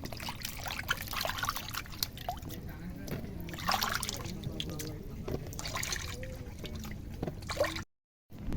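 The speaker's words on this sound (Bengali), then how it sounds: "আমি আলুগুলো এবার ধুয়ে নিচ্ছি" Potatoes being washed in water in a home kitchen, with a steady stream of trickling, splashing and sloshing throughout, close and fairly loud, ending in a brief silence.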